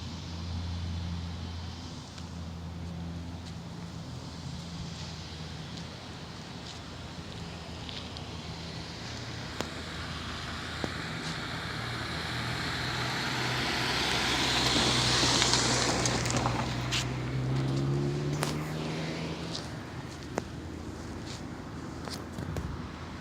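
US military Black Hawk helicopter engine swells from a distant rumble to a loud whooshing roar as it passes overhead, then fades, under wind noise.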